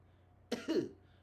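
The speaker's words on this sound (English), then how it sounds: "So here's a bad cough." A deliberately weak, shallow cough demonstrated in a pulmonary rehab setting: two short, close coughs in quick succession, the second slightly longer, after a moment of quiet.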